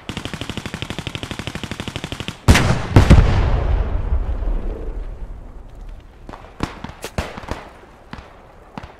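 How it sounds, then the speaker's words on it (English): Machine gun fire in the Post Scriptum war game, a fast steady burst of close automatic shots ending in a loud blast that rumbles away, followed by scattered single gunshots. "Is that an MG?"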